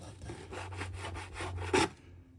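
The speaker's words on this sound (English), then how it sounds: "So I'm just gonna cut them like that, chop it like" A knife saws back and forth through beef steak on a cutting board, a steady series of about eight close, rhythmic scraping strokes with a sharper thud near the end.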